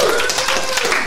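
Concert crowd applauding for a musician at a winter show, a brief dense wash of clapping with some whistles, loud and close, with a voice faintly mixed in.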